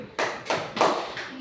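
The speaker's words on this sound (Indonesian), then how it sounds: "Tepuk hebat untuk Ganteng berdua." A school class claps a quick patterned cheer for two students: four sharp unison claps in a short rhythmic burst, close and clear.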